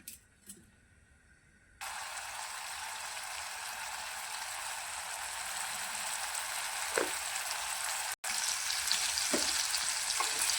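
Cumin and mustard seeds frying in about one and a half spoons of hot oil: a quiet pan then a sudden, steady crackling sizzle that carries on continuously, with a few faint clinks.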